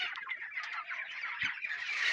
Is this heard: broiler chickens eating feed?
yes